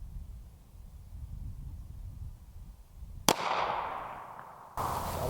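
A single 9mm pistol shot is fired at a polished aluminum foil ball outdoors: one sharp, moderately distant bang with a fading rumbling tail, after steady background noise.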